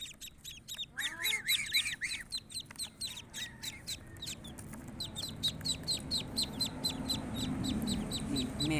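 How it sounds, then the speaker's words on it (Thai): Twelve ducklings peep in rapid, high-pitched chirps, busiest at the start and end, with clucking and squawking fowl mixed in and a low background rumble throughout. "ลูกเป็ดเด้อ12ตัว"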